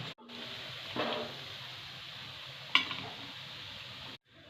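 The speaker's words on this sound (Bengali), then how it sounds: "বাকিগুলো একইভাবে ভেজে উঠিয়ে নেব" Crisp curry leaf pakoras deep-frying in oil, giving a soft continuous bubbling sizzle with a single sharp metallic clink partway through before the sound cuts off.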